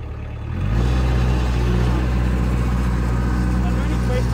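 A tractor pulling an implement up a paddock spread with gypsum, its engine starting to rumble up after a quiet moment and then holding a steady, loud drone close by.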